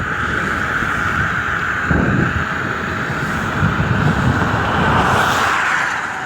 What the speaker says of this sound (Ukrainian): Чуєте, як звучать мої колеса на спуски?